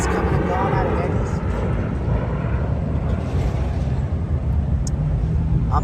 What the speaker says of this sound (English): All these airplanes coming and going out of Vegas.